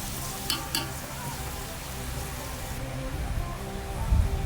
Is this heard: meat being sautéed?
yes